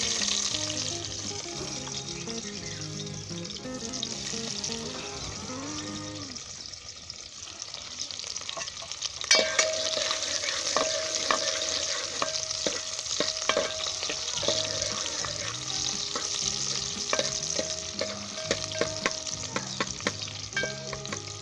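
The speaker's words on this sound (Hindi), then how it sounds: "सबसे पहले हम प्याज को ब्राउन करेंगे, उसके बाद लहसुन डालेंगे।" Onions browning in about three tablespoons of vegetable oil in a frying pan, a steady close sizzle with occasional stirring and scraping, while background music plays underneath.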